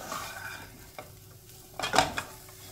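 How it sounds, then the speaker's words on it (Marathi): Grated coconut being sautéed in a pan for milkmaid modak, with a quiet background sizzle and a few spatula scrapes, one near the middle and a louder cluster toward the end, close by and without talk. "हे बघा, आपल्या नारळाचा चव छान परतून झालेला आहे"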